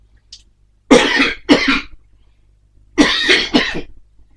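Four hoarse coughs come in two pairs, close and loud, with silence between them.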